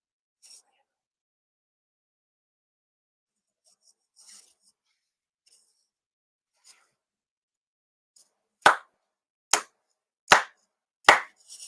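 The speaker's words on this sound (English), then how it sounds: "4 sincere claps" Four sharp ceremonial hand claps at an October monthly memorial ceremony ring out alone at an even, deliberate pace after a long hush broken only by faint rustles.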